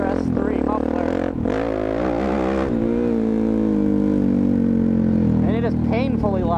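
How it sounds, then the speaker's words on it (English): Suzuki DRZ motorcycle fitted with a Yoshimura full exhaust system and RS3 muffler, its engine droning steadily and loud throughout with rising and falling pitch, picked up close from a helmet, with brief vocal sounds partway through. "The exhaust on my DRZ is the Yoshimura full system with the RS3 muffler."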